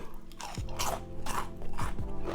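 Crunchy double-fried Taiwanese popcorn chicken is bitten and chewed up close, loud crackling crunches in several bursts with no talking.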